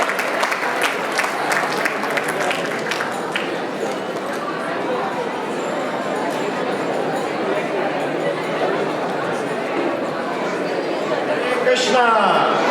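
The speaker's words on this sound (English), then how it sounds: "Can we please give a very, very big round of applause as the VIPs come onto the stage." Audience applause at a Sri Krishna Janmashtami 2025 celebration at ISKCON Brisbane, greeting VIP guests as they come onto the stage, sustained dense clapping mixed with crowd chatter, steady and loud throughout.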